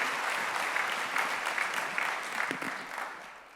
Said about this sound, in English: I want you to give a fair chance of clapping for you.